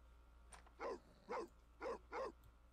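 A miniature puppy gives four short, evenly spaced barks at close range, faint against a low steady hum, with no talking.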